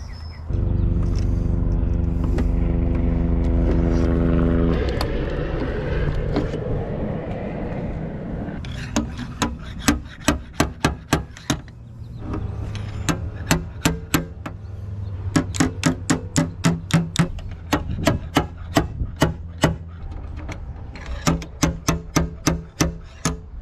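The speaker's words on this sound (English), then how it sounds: "I'm going to use a stud weld gun to pull this out because this dent is distorting this line right here." Stud weld gun pulling a dent from Honda K20 EF sedan bodywork: a low hum at first, then a long run of sharp, rapid metallic clacks and snaps in bursts, close and loud.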